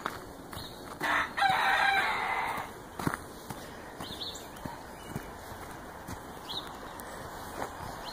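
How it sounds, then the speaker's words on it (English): A single rooster crows once, moderately close, over a steady outdoor backdrop of insects and faint ambient noise. "That must be one of the hens that's actually a rooster."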